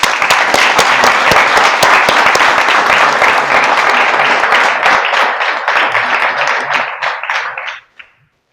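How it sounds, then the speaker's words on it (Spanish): An audience at a Spanish-language public gathering gives dense, loud, sustained applause for about eight seconds. It thins and cuts off sharply near the end. "le vamos a dar un aplauso"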